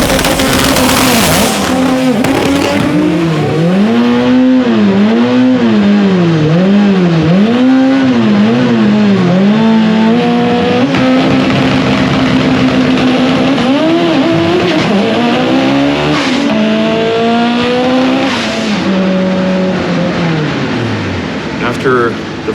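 The Black Zenith EVO race car launches down a drag strip at a World Cup Finals event, its engine screaming loud and close and swooping through rapid rising and falling revs, with some tire squeal.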